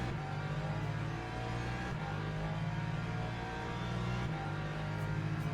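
Race car engines at full throttle during a drag to the finish line at Spa in Le Mans Ultimate: a steady, loud droning roar with brief shifts in pitch at gear changes, no talk.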